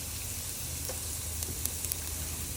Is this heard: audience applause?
no